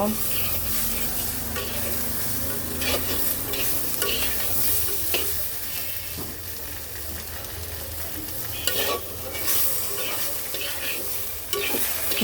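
Fish with potato, tomato and green chili frying together in a pan, a continuous close sizzle broken by repeated stirring scrapes and clatters, with no one speaking.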